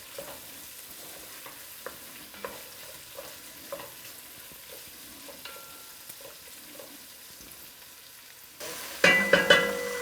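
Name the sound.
stirring spicy chicken frying in a pan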